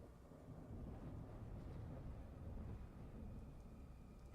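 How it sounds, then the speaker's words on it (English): Spooky thunderstorm ambience with a steady, loud low rumble of thunder and wind, continuous throughout with no voices. "the thunder is kicking up"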